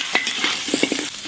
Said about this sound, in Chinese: 先把这个羊肉给它煎香。